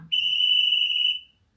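A conductor's whistle sound effect from a PIKO Vectron EU46 model locomotive: a single steady, shrill whistle blast lasting about a second, clear and close, then cutting off cleanly.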